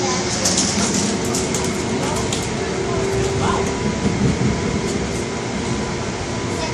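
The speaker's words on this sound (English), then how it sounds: "Right now, we're on the train." Steady rumble and rattle of a passenger train riding along in New Jersey, heard from inside the car, with constant track noise and faint metallic squeaks over a continuous low roar.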